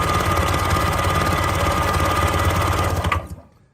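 A two-stroke jet ski engine runs loud and steady at close range, its rapid buzzing pulse holding even for about three seconds before cutting off abruptly into silence.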